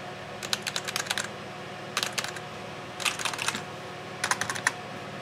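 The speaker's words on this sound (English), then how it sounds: "Yeah, I don't know what's up with this keyboard, man." Someone types on a computer keyboard while setting up a Raspberry Pi 3 B+ with a 7-inch LCD for OctoPrint. Four short bursts of rapid, close key clicks are separated by pauses, over a steady low hum of room noise.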